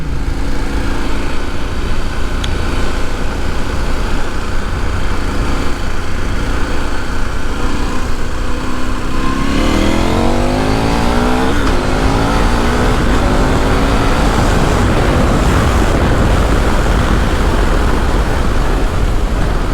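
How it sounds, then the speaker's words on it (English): A KTM 1090R adventure motorcycle with knobbly tyres rides green lanes in Northamptonshire. The engine is loud and close throughout, holding a steady drone, then revs up through rising gear changes around halfway, with constant wind rush and no voices. "The problem with this bike is you've got 125 horsepower and you're trying to put it down through a knobbly tyre"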